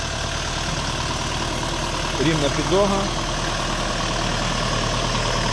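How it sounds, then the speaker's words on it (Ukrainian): A four-cylinder 40 hp Dongfeng 404 mini tractor idles with a steady, loud, continuous drone, while someone speaks briefly over it. "Тракторець у нас 4-циліндровий, на 40 кінських сил, з термосовою навіскою."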